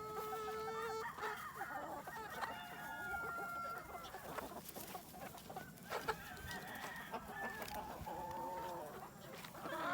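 Free-range chickens and roosters on a two-acre homestead cluck and squawk steadily and busily throughout, with occasional crow-like calls rising over the flock against a faint outdoor background.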